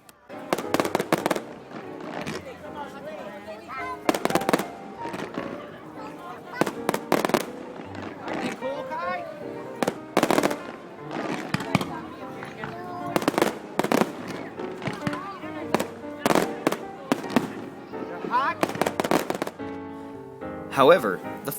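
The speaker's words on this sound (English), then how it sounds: "watch fireworks on the beach" Fireworks burst over a beach at night, with sharp cracking blasts in irregular clusters, some close and loud, others crackling and fading, and crowd voices and chatter running underneath.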